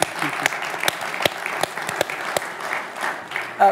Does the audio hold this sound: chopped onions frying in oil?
no